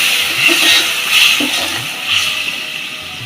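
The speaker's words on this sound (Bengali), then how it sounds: "একটু গরম জল দিয়ে দিলেন" Hot water poured into a pot of fish head, potatoes and yardlong beans makes a loud, continuous rushing splash, close and steady for a few seconds, with no talking.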